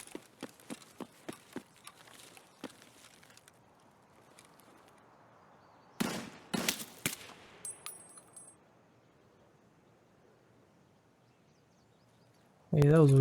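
Gunshots in Escape from Tarkov, a string of faint distant cracks, then a louder burst of several shots, with quiet gaps and a sudden loud sound closing it out.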